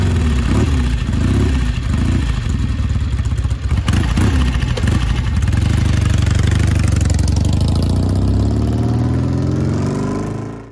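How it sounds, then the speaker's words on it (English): Norton Commando motorcycle engine rumbling through its upswept exhaust, loud and close, with a deep throbbing beat and a few revs before settling toward a steady idle that fades slightly at the end. "the Commando is right there with the look and sound. It's just an incredible exhaust system."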